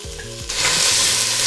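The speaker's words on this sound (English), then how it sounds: "heat a big pot over medium heat, and once it's warm, cover the bottom well with olive oil. And I'm adding in the onion, garlic, chili, and the ginger" Onion, garlic, chili and ginger dropped into warm olive oil in a big pot over medium heat, a few low clunks giving way to a sudden loud, steady sizzle, close with no talking.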